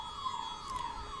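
A siren on an ambulance stuck in Indian traffic outside, heard faint and distant through walls as a steady wailing tone under indoor room noise.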